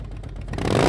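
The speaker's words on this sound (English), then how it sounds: "all of a sudden you hear the rumble and roar of an engine" A motorcycle engine fires up and revs, a short burst of rumbling clatter that swells into a loud, rising roar within a second, heard close and alone.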